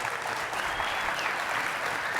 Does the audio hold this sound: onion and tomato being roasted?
no